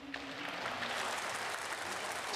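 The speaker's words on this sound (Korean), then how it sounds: "참 많은 분들이 박수를 치십니다." Audience applause in a large live television studio during a broadcast reuniting separated families, a steady dense wash of clapping throughout, fairly distant and moderately loud, with no talking over it.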